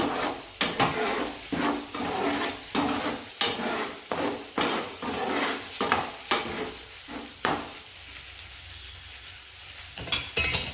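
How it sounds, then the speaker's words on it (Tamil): Repeated stirring scrapes in a pan over a steady sizzle of okra gravy bubbling in hot oil, close by, with the clatter easing toward the end. "கிரேவி நல்லா எண்ணெய் தெரிஞ்சு கொதிச்சிட்ருக்கு"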